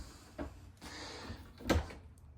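Small cabinet doors in an RV bathroom swing open and shut with a few soft wooden clicks and thuds, the loudest knock near the end, set against low room hum.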